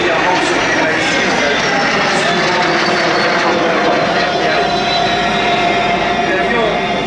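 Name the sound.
Fouga CM 170 Magister jet at air show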